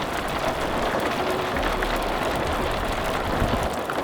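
Steady monsoon rain falls on a slippery fort trail at Irshalgad, Maharashtra, a dense, even wash of rain noise that holds constant throughout with no talk.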